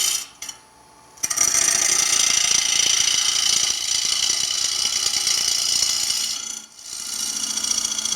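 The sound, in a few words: gouge making a pull cut on a wood lathe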